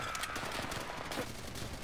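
Gunfire in the World War II shooter game Call of Duty: World at War, dense and continuous, with overlapping shots forming a steady, fairly quiet wash of battle noise.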